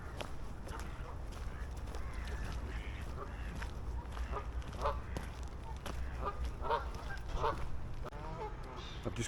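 Geese honk repeatedly at Scarborough Mere, several calls rising over a steady outdoor rumble, with ducks nearby and occasional footsteps along the lakeside path.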